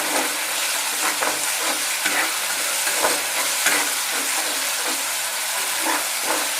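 Spice masala fries in a pan while being stirred, a loud continuous sizzle and hiss with repeated scraping strokes of the spoon, close up and without talk.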